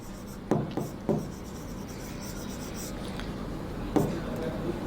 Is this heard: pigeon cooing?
no